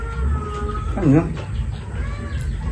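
A cat gives one clear, rising-and-falling meow close by, standing out briefly from a low background hum, with speech around it.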